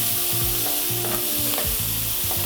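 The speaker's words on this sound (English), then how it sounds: "we're gonna saute this on high heat for 1 minute" Onions with a pinch of salt sautéing in a frying pan on high heat, a dense continuous sizzle with rhythmic scraping strokes of stirring, close and steady with no talking.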